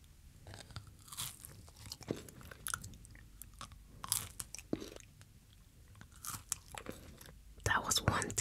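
Someone bites into a realistic cake made to look like sunglasses, giving soft irregular crunches and chewing sounds, close up and fairly quiet, scattered across the stretch with brief speech between.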